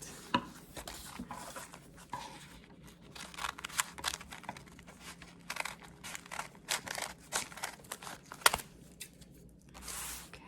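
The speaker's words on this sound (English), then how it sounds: "And then I just cut a triangle off" Scissors cutting a triangle off a folded paper snowflake, giving a string of close, quiet crinkling snips and rustles of paper with brief pauses between them.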